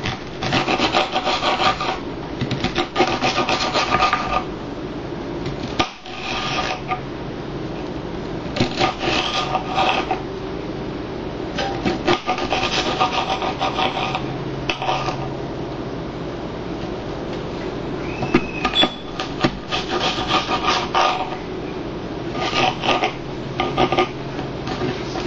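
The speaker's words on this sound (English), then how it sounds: "I'm going to just make nice small slices." Knife cutting food into small slices on a board, a long run of steady rubbing, scraping strokes with brief pauses, close and fairly loud, no talking.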